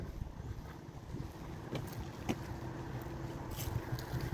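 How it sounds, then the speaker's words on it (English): Gusty wind rushing over the microphone in a continuous low roar, with a few faint clicks and no talking. "It's windy."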